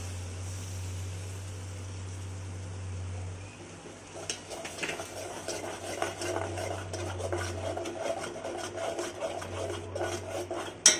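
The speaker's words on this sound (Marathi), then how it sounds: "खोबऱ्याची पेस्ट चांगली परतून घ्यायची आहे" Coconut paste sautéed with ginger-garlic paste and spices in a pan for a Maharashtrian chicken curry, heard as a rasping scrape of stirring that starts partway through and grows busier, over a low steady hum.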